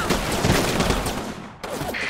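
A squad of enemy troops at the edge of an orchard is hit by a withering barrage of gunfire in a war game, a dense, continuous roar of overlapping shots that dips briefly before resuming.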